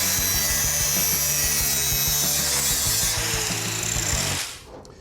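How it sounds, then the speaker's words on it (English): An angle grinder cleaning up the cut metal edges of a muscle car's wheel wells, a loud steady harsh grinding whine with rhythmic pulsing, ending abruptly as the tool stops. "a grinder will clean up the edges"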